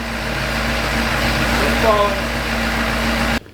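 A Cadillac CTS-V, just repaired with a new high-pressure pump, idles with a steady low drone and a constant hum, close by, before cutting off abruptly at the end.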